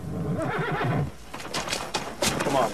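A horse neighs loudly and close, a shaking whinny that is followed by snorts and scattered hoof clatter.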